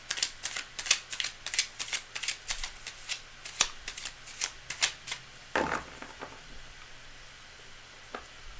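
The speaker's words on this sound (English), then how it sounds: "I screwed up there on my shuffling." Rapid riffle of playing cards being shuffled, a quick run of crisp flutters that slows to a few scattered taps and slides near the end.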